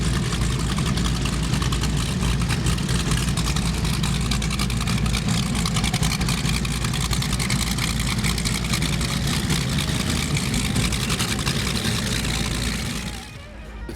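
A big catamaran powerboat with four 1075 engines producing 4,400 horsepower drones loudly and steadily with a deep rumble and broadband roar, then eases off near the end.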